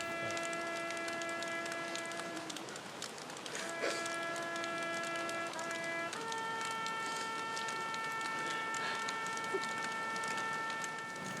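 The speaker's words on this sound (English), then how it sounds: "this one last eerie ghost train" A train passes with long, steady tonal whines layered over a constant rushing rumble and hiss, the pitches shifting partway through. No voices.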